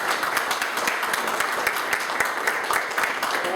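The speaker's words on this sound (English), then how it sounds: "let's thank Madison with another round of applause" An audience at a county political candidate forum applauding, steady dense clapping from a crowd throughout, moderately close and even in level.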